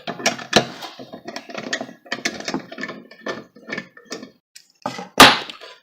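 Bolts are unscrewed by hand from a Cadet wall heater's fan assembly, giving a string of close, dry metallic clicks, scrapes and small knocks, ending in one sharper clatter as parts are set aside.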